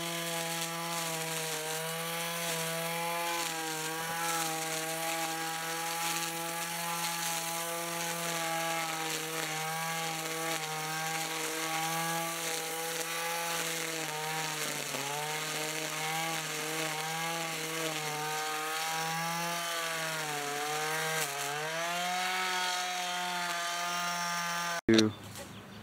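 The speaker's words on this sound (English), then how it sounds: "Start trimming stuff." An electric lawn trimmer cuts a lawn, its motor giving a steady, close, loud whine that dips in pitch as it bites into growth, then stops abruptly near the end.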